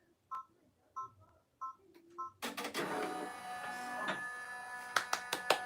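A computerized embroidery machine finishing the last stitches of an in-the-hoop Christmas stocking: a few short, evenly spaced beeps, then dense, steady mechanical chattering with sharp ticks, close and fairly quiet.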